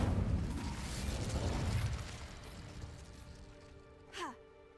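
An Incendio fire spell is cast in Hogwarts Legacy, a loud whooshing, crackling blast that rumbles for about two seconds and then dies away, followed by a short rising whistle-like tone.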